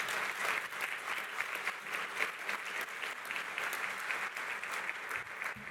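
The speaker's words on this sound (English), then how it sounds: "Can you give them a round of applause?" Mayors at a winter conference meeting's opening plenary applaud the hotel staff, a steady sustained wash of many hands clapping in a large room, fairly distant and even in level from start to finish.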